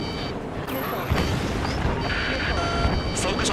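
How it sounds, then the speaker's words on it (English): Missiles launch and explode in the Ace Combat 7 air-combat video game, dull booms and mechanical rumbles rolling under dense in-game radio chatter. "Missile fire!"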